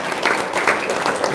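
Audience at a lively religious talk breaking into steady applause, a dense close patter of clapping hands that holds for the whole moment with no clear voices over it.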